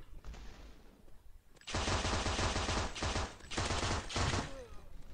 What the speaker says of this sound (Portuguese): Tem alguém atirando em mim ali